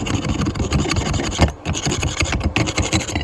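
Steady rough scraping and rasping across metal as spatter BBs are knocked off a flux core weld made with a Titanium flux core 125 welder, continuous and close with a brief gap, no talking.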